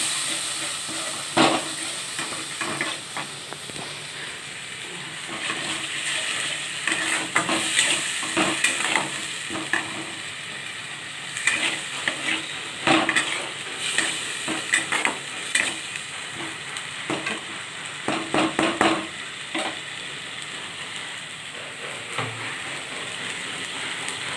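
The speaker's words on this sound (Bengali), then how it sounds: "এটা হচ্ছে পেঁয়াজ রসুন ভাজা এই পেস্টটা" Onion and garlic paste fries in a pan with a constant crackling sizzle, broken by repeated scraping stirs and louder spattering bursts, close up and running on without speech.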